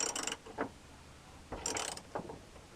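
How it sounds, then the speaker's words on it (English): A rusty threaded part being screwed in and out, giving a few short metallic grinding and ratcheting scrapes in separate bursts, close and fairly quiet. "We turn in, we turn out. Turning in, and that way it cleans, try to get the rust off the threads"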